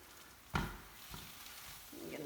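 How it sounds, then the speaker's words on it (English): Egg cooking in a pan for cauliflower fried rice, a soft sizzle with a sharp clatter of a utensil striking the pan and a brief stir, quiet and close. "you just continue cooking this until the egg is done to your desire of doneness"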